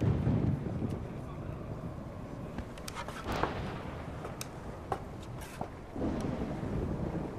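Steady wind roars through the whole stretch of a thunderstorm, with low rumbling gusts and scattered sharp crackles, like a storm blowing hard outdoors.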